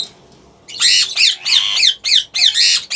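A pair of green and olive ringneck parakeets in a breeding setup gives loud, harsh squawks in a rapid series of about six bursts after a brief quiet start, close to the listener.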